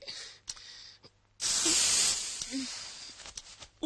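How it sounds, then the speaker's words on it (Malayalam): An aerosol spray can hisses in a long, loud burst for roughly two seconds in a Malayalam film scene, with quieter sounds before it and a soft voice heard briefly. "ഈ സ്പ്രേക്കൊക്കെ DTS സൗണ്ട് ആണല്ലോ."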